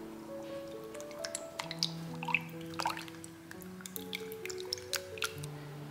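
Yeast being stirred into warm milk heated to about 35 degrees in a bowl, soft wet clinks and liquid squishes in an irregular rhythm, quiet and close, with no talking.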